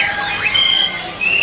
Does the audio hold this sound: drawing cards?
no